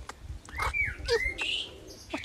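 A pet bird gives a short run of chirps and whistling tweets at close range, with a brief soft voice at the start.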